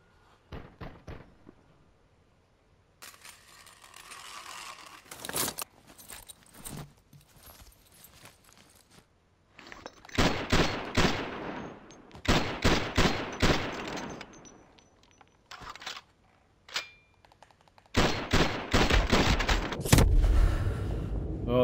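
Video game gunfire from Call of Duty Modern Warfare Remastered, with repeated bursts of automatic fire and single shots in clusters, loud and sharp, separated by quieter stretches of ambient game sound.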